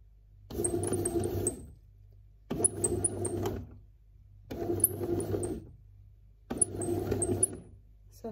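An electric stand mixer kneads homemade kebab bread dough in four steady bursts of mechanical whirring and knocking, each lasting about two seconds and separated by short near-silent pauses.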